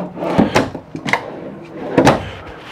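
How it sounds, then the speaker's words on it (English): Kitchen drawers in a 2013 Itasca Sunova motorhome sliding open and shut, three short close knocks and rumbles with quiet gaps, heard alone. "Drawers down below here."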